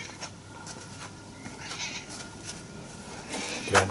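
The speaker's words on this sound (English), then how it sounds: "Oh, that's just the cat." A house cat meows in a woodworking shop where airplane wing spars for a 1917 Sopwith Camel replica are being made, giving a few soft, fairly faint calls against quiet room noise.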